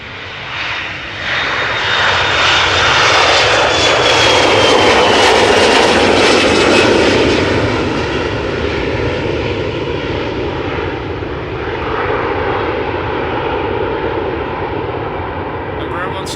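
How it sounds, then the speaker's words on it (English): An Embraer jet airliner takes off at Amsterdam Schiphol Airport, its engines roaring loud and sustained, swelling then slowly fading as it climbs away. "In the meantime, another Embraer taking off over here."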